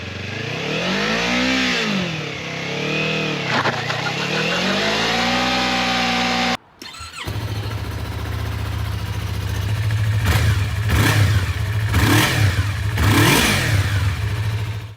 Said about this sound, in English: Now let's also have a listen to the stock exhausts of both.